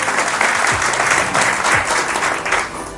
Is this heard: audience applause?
yes